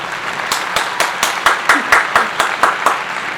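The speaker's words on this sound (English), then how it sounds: "so round of applause" A small group claps in a brief round of applause, about a dozen even, sharp claps in a steady rhythm, close and moderately loud, with faint murmuring underneath.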